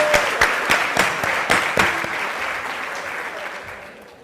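Audience applause at a digital citizenship and literacy event in Chile, starting with loud, close individual claps that merge into a fuller ovation and gradually fade over several seconds.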